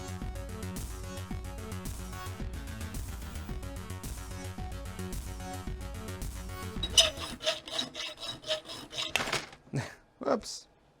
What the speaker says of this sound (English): I'm gonna have to grind that down or file that down a little